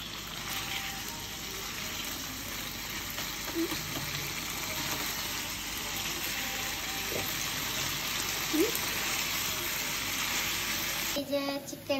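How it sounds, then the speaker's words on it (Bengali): Chicken fries in a pan with a steady, bubbling sizzle and watery hiss, close and continuous, ending with a brief clatter. "এই যে চিকেন ফ্রাই করা পুরো মোটামুটি চিকেন হয়ে গেছে।"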